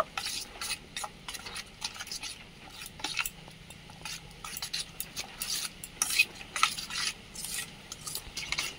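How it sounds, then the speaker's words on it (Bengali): Lemon pickle ingredients being mixed with chili flakes and spices in a bowl, a steady run of scraping and stirring clinks that sound close and moderately loud, with no voices over them. "এরপর ভালো করে আমি মাখিয়ে নেব।"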